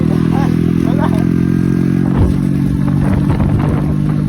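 A Honda CD 70 cafe racer motorcycle rides with a steady, loud low engine drone and some clattering, its pitch shifting midway, while people talk over it.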